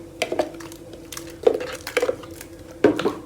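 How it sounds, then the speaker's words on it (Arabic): Marinade ingredients emptied from a metal bowl onto chicken for charcoal grilling, with close clinks and clatters of dish and utensil at irregular intervals, separated by quiet gaps. "هفضي بقى كل المكونات دي عليها"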